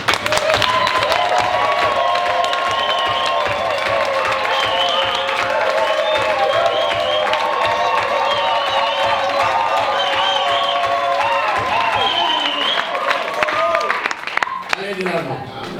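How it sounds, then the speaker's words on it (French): A church congregation applauds and cheers loudly and steadily for young people, a dense wall of clapping with whoops that carries on for about fourteen seconds before fading. "Je vous demande d'acclamer pour les jeunes gens, très fort."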